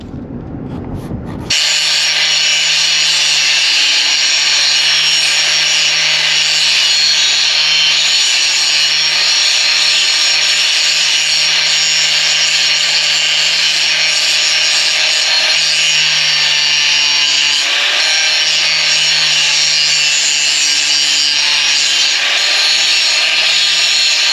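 Loud, continuous high-pitched grinding from a cutting wheel slicing through steel wheel studs on a Chevy Colorado ZR2, a steady abrasive whine held for the whole stretch after a brief quiet start.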